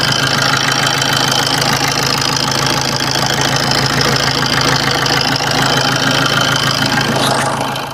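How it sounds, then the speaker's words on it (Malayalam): A Maruti Suzuki Swift diesel engine with about 279,000 km and a loose timing chain idles close to the microphone, a steady loud drone carrying a busy metallic knocking rattle throughout, with no talking. "എഞ്ചിൻ്റെ സൗണ്ട് ഞാൻ ഒന്നുകൂടെ കറക്റ്റ് ഒന്ന് കേൾപ്പിച്ചു തരാം മൈക്ക് വെച്ചിട്ട്"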